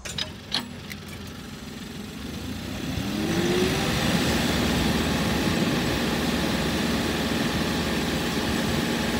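An Arbos 2040 tractor engine runs during a rear hitch lift test, starting with a few sharp knocks and a lower idle before revving up into a louder, steady drone that holds to the end.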